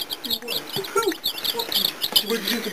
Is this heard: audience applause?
no